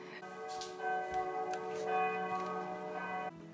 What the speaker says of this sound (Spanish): cada vez que me pongo a grabar suenan las campanas